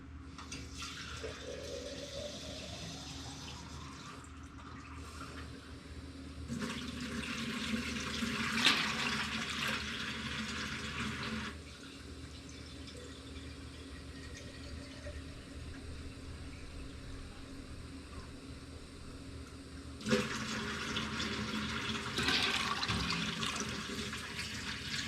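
Tap water runs into a container while a brine is prepared for ham roasts, a steady hiss interrupted by several louder surges of flowing water, with no talking.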